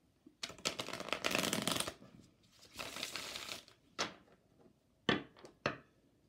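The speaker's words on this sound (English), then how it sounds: "That wasn't even a shuffle. Let's try that again." Tarot cards being shuffled by hand, close riffling bursts of crisp paper rustle, two longer runs followed by a few short flicks and taps, with no talking.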